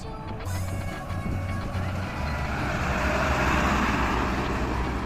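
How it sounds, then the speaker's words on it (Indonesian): Truck at an asphalt paving site near a race circuit, a low pulsing reverse beep repeating under rumbling engine and traffic noise, with background chatter. "di sini truk yang akan membawa finisher kembali lagi ya untuk mengambil satu finisher lagi untuk melakukan pengaspalan"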